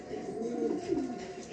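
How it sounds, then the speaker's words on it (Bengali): A male imported foreign pigeon giving a short, low, throaty coo, with soft repeated rolling phrases heard nearby against quiet background noise. "খুব সেরকম একটা নর কবুতর।"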